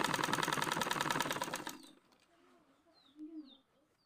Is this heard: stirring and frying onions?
no